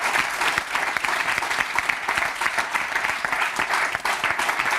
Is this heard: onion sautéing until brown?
no